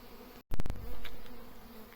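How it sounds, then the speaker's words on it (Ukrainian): A caught swarm of honey bees buzzing around a bucket outdoors: a steady, dense drone fills the clip, briefly broken by a short gap and a few close thumps. "Ті бджоли, які літають, вони за відром і летять"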